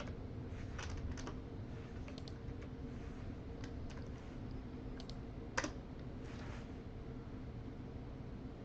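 Faint computer keyboard typing while writing game engine code, scattered clicks and short bursts of keystrokes over a low steady hum, with one sharper key hit partway through.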